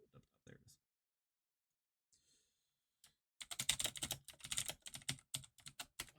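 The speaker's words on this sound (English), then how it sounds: "Oh, he's typing." Fast clattering typing on a computer keyboard, a few scattered key taps at first, then a dense, brisk run of clicks in the second half, close and fairly loud.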